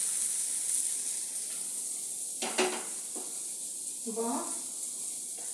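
Mackerel (ayala) frying in a pan gives a steady soft sizzle and hiss, with a couple of brief clatters from stirring or turning the fish, while a voice speaks briefly over it.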